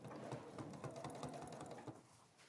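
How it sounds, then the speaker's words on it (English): A sewing machine stitches close to the edge of a quilt binding, running in a fast, even rhythmic clatter for about two seconds before stopping. The sound is quiet and close, with no speech. "I'm going to sew very close to the edge"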